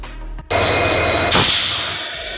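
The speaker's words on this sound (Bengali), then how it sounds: "এটা আসলে ব্রেক করার পর ওই বাতাসটা এই এক্সস্ট পোর্ট দিয়ে বাইরে যাওয়ার আওয়াজ।" Compressed air from a train's brake system rushes out through the triple valve exhaust port after braking, a loud sustained hiss that starts abruptly, surges stronger partway through and then slowly eases off, with no talk.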